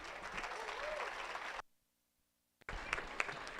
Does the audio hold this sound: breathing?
no